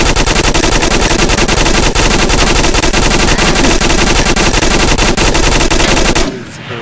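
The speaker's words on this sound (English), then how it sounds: "I just found out that this thing will spin in circles if you just keep shooting it." Pistol fired over and over in the VR shooter Onward, a loud, dense, unbroken stream of rapid shots that continues for about six seconds before cutting off abruptly.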